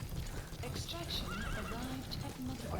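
A horse in Metal Gear Solid V neighs and whinnies in short bursts over a background of clip-clopping hooves and muffled game noise, fairly quiet.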